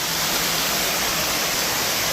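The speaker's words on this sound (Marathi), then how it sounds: "असं झुळझुळ पाणी वाहत आहे" Water rushes steadily at the Jummapatti waterfall in Matheran, a dense, continuous close-up wash with no breaks and no voices.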